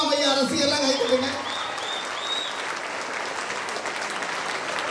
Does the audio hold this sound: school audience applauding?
yes